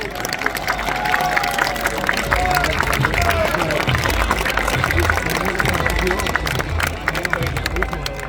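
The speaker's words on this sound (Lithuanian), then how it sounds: "Plojimai abiem lyderiam." Spectators clap for both knights after a lively quarterfinal bout at the 15th international knight tournament in Kaunas, producing a dense, steady wash of clapping and crowd noise with voices mixed in for the whole stretch.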